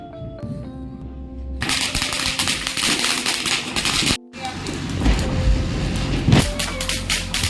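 Diwali firecrackers burst in a rapid crackling barrage outdoors in Mahuva, dense continuous popping with a brief pause before another loud stretch and a sharper bang near the end.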